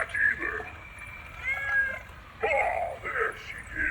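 A cat meows several times nearby, drawn-out calls in short bursts with brief pauses between them.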